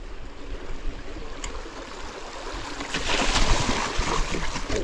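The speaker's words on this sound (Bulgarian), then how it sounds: "Поредната река." River water flowing at a bike sports camp, a broad steady rush heard close with wind mixed in, swelling louder toward the end.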